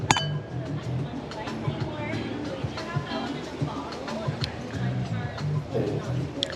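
Glasses of South African red blend wine clink together in a toast at a quiet outdoor spot near a town square in Georgetown, Texas, a couple of bright close chimes amid soft background chatter and ambient noise.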